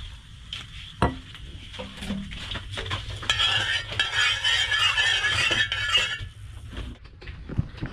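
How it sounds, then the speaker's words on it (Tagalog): Burong atumpangan, fermented rice paired with mustard greens, sautés in a pan, with a steady sizzle and frequent scraping and clinking of a utensil stirring against the metal, close and fairly loud, with no talking. "Gigisa na po tayo ng ano, ng buro."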